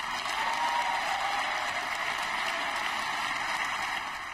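The State of the Union audience applauds in a steady, dense wash of clapping that holds evenly for a few seconds, fairly faint and distant.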